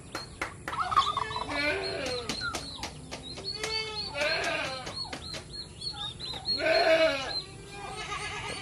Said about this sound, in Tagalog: Mga pabo na kasi.